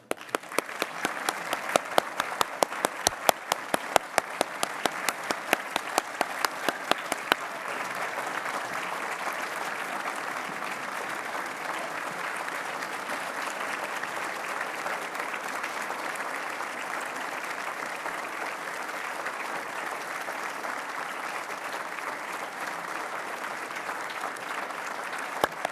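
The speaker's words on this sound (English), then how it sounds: "applause." Sustained audience applause at the 2025 Order of British Columbia investiture ceremony, with steady many-handed clapping that carries on for the full stretch, a few sharper claps standing out early on, no speech over it.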